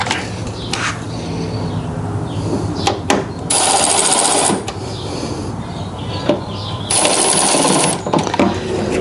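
A cordless power tool snugs up nuts on DV8 pinch weld covers on a 2024 Ford Bronco Outer Banks, two loud buzzing bursts about a second long each, close by, with clicks and handling knocks in between.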